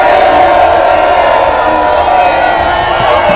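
A large crowd roars and cheers at a Vital Kamerhe election campaign rally in Kenge, a loud, dense, sustained wall of voices and shouts throughout.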